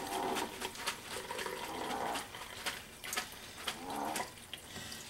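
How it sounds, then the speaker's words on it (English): Grated potatoes being rinsed for crispy hash browns under steady running tap water, a continuous splashing rush with brief surges, close by and with no talking. "So I'm rinsing."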